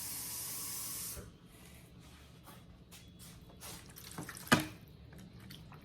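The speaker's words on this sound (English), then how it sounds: "I'm gonna add about a half cup of water to this." A short burst of water, about half a cup, pours into a pan with a slab of ribs and splashes for about a second, then quiet drips and small knocks follow, with one sharper clink near the end.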